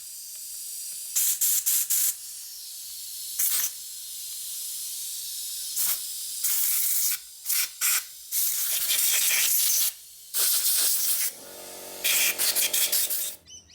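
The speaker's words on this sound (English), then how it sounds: "I've also got some compressed air set up here. So I will blow all these holes out." Compressed air blasts through the holes of a Mercury 15hp outboard carburetor in a series of sharp, loud hissing bursts of varying length, separated by brief pauses, close up.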